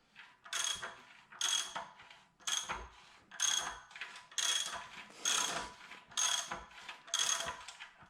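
A K20 engine's pistons are turned over by hand, giving about eight repeated mechanical ratcheting, scraping strokes in a steady rhythm, close and moderately loud, with no talk.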